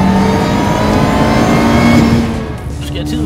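A 260-horsepower Lotus sports car engine revs loudly and steadily up close at the Frankfurt motor show, a sustained roar that eases off near the end, with a person talking over it.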